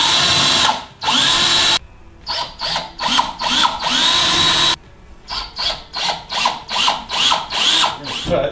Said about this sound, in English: because I'm going to just drill a pilot hole here.